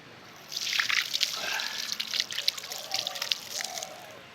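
Dishes are washed with pond water outdoors, giving irregular splashes, drips and sloshing close by at moderate volume after a quiet start.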